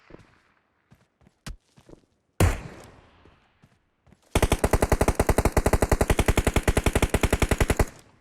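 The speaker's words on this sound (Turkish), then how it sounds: "Oğlum bu çok uzak sıkıyor." Battle royale game gunfire: a few scattered single shots and a sharp blast, then a long, loud burst of rapid, evenly spaced automatic fire lasting several seconds, with no talk over it.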